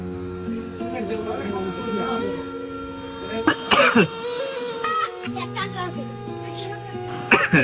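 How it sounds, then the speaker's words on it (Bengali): A person coughs hard in a few short, harsh bursts that stand out over steady musical backing, in a Bangla comedy short about middle-class life. "কাশি অনেক বেশি গেছে রে"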